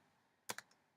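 Three or four crisp keystrokes on a computer keyboard, clustered closely near the middle of a quiet second, fading to a faint final tap.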